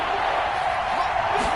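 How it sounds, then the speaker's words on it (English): A stadium crowd at a Steelers vs Browns football game roars in a steady, broad wash of cheering ahead of a big third down, loud and unbroken, with faint voices mixed in. "The crowd getting into it as we come up on a big 3rd down"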